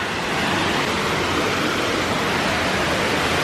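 A waterfall on a nature hike roars as a steady, loud, broadband rush of falling water with no voices over it.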